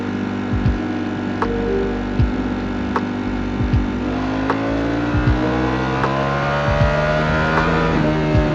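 Ducati Panigale V4 S motorcycle held in first gear, revving hard and rising in pitch as it accelerates to overtake on the road, loud and close with a few brief rev dips.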